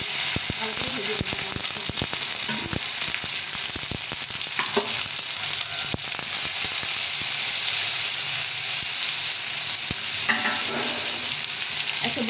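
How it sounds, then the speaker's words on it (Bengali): Tomato paste fries in oil with dry red chilli, cumin seeds and bay leaves, giving a loud, dense sizzle. Sharp spatters and crackles run throughout, with a few stirring scrapes. "দুটো তেজপাতা দিয়ে টমেটো পেস্টটা দিয়ে দেবো, ভালো করে ভেজে নেবো।"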